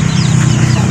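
A chicken clucks close by in a rapid, continuous run of short calls over a steady low background hum.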